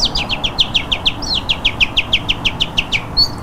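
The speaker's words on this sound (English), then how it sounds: "I can even hear the birds" Birds chirp at about 5 a.m. in a quick, steady series of bright, high tweets, roughly five or six per second, fairly close over a low background hum with no talking.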